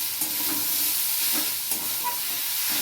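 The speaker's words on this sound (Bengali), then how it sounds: "এটা একটু কষতে হবে, এমনি একটু কষে এর উপরে আমি আর একটু মশলা দিয়ে দিচ্ছি।" Spices sautéing in oil for a banana stem curry, giving a steady close sizzle with soft stirring scrapes of the spoon through the pan, and no talk over it.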